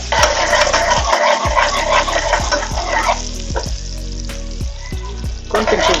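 Garlic and onion sauté in hot oil in a pan with a loud, close, continuous sizzle and crackle, broken by the repeated scrape and knock of a utensil stirring.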